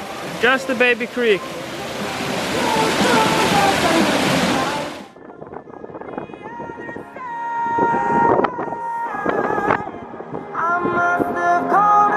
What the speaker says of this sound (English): we have a small waterfall here